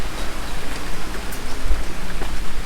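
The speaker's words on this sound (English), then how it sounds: "It's starting to rain." Steady rain falls outdoors in the Philippines on the walk to an elementary school, a close, even hiss of drops with a few heavier patters.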